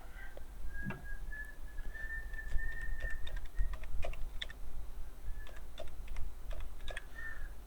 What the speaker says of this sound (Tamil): நான் வந்து திருவரங்குளம்னு டைப் பண்ணிட்டேன்